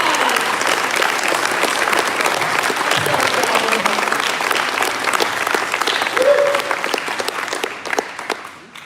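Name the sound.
applause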